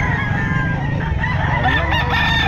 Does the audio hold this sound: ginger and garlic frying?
no